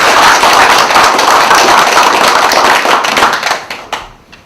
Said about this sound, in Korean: 수고의 박수, 큰 박수 보내주시기 바랍니다.